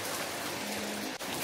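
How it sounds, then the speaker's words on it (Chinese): Heavy rain pouring steadily in Taipei, a dense continuous hiss of rainfall, close and even, with a faint tonal hum partway through and a brief dip near the end. "超級大雨啊！"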